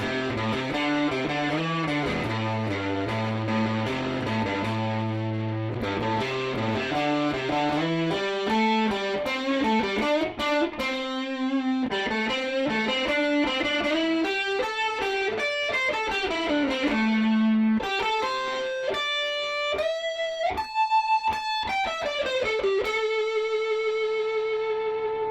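Electric guitar played through the neck pickup with heavy distortion, a continuous run of sustained chords and melodic lines with bends, loud and alone without voices.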